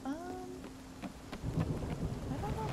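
Lightning and thunder in the video game Spiritfarer: a rumbling crack of thunder over steady falling rain, with a few tonal game sounds at the start and the storm swelling louder midway.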